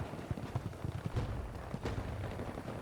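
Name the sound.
gunfire in Battlefield 2042 video game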